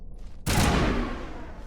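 An assault rifle fires in the Mass Effect video game, a sharp burst of gunfire erupting after a brief quiet moment and ringing out in a loud, decaying sci-fi blast.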